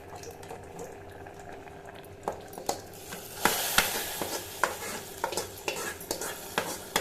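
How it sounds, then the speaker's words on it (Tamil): Hot tempering is poured into a raw banana and chana dal kootu, giving a sudden sizzling burst midway, followed by repeated scraping stir strokes in the pan, close and moderately loud. "இந்த ஸ்டேஜில் தாளிப்பை எடுத்து இதில் கொட்டிக்கலாம்."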